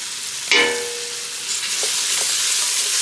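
Bell pepper and celery sautéing in a pan for a Louisiana Cajun base, a sharp sizzling burst as the vegetables hit the heat, settling into a steady close hiss.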